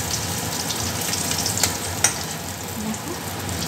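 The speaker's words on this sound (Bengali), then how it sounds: "মাছের মাথাটাও লাল করে ভেজে নেব" Fish heads fry in hot oil with a constant, close, crackling sizzle, broken by a couple of sharp pops.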